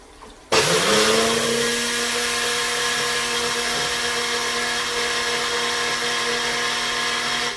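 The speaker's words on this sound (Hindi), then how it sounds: "इसमें डाल के ग्राइंडर में इसको ग्राइंड कर दूँगी" An electric kitchen grinder grinds poppy seeds (khaskhas) for Bihari boti masala. It switches on abruptly after a quiet moment, then runs as a loud, steady, high-pitched motor whine with no pauses.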